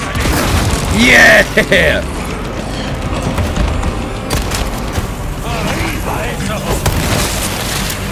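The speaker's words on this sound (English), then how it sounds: "We got a grenade!" A grenade explodes in the Resident Evil 4 video game, a loud boom amid busy mechanical game noise, with excited voices shouting over it.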